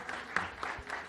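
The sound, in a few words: applause in the hearing room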